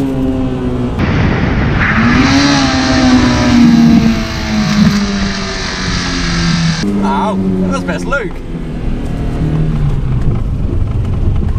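A car engine over-revving violently after being forced into first gear at 90 km/h, a loud strained howl that climbs, holds and then drops with a rough rattle, while occupants talk over it inside the cabin.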